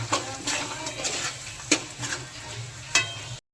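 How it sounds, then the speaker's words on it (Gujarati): Coriander and cumin powder are stirred into a frying pan while making pulao, a low sizzle under repeated close spoon scrapes and clacks, ending in sudden silence, with no speech. "અને ધાણા જીરું એને હવે આપણે મિક્સ કરીશું"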